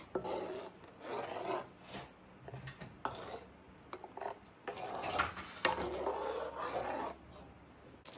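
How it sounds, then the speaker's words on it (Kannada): A ladle scraping and stirring fish sambar in a cooking pot, with repeated soft rasping and rubbing strokes at an uneven rhythm, close and fairly quiet. "ಆಗಾಗ ಸ್ವಲ್ಪ ಹೀಗೆ ತಿರುಕೋತಾ ಇರಿ ಸೌಟಲ್ಲಿ"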